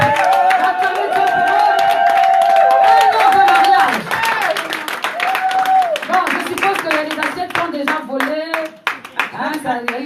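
A church congregation claps and cheers for a couple's first wedding anniversary, the applause dense and loud at first and then thinning out, with a voice speaking over it throughout.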